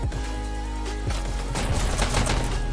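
Rapid gunfire in a VR shooter during an esports league match, quick bursts of shots cracking close and loud, layered over steady game ambience.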